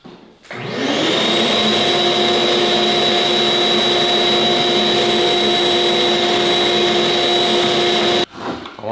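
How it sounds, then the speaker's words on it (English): A vacuum cleaner runs through a hose attached to a whale tail dust attachment on a vinyl plank flooring job, starting up abruptly, holding a loud steady whine for several seconds, then cutting off. "And then hook your vacuum hose up."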